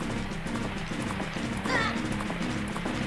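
A horse galloping in the video game Zelda: Majora's Mask, heard as a steady rhythmic clip-clop of hooves along with game sounds and busy background noise.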